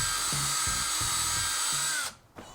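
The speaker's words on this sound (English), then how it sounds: "got a paint mixer on my drill. Put that in there. Slowly mix that all up." A power drill with a paint-mixing paddle stirs roll-on truck bed liner, whirring steadily with a high whine and rhythmic low churning, then cuts off abruptly near the end.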